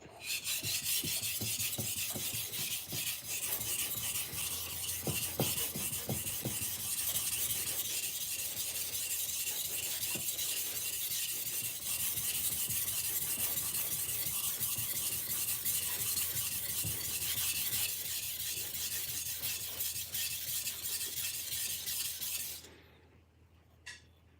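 A Shun kitchen knife is worked on a cheap whetstone, giving a steady, close, gritty rasping of continuous strokes that runs almost without a break before stopping abruptly near the end, with no voices.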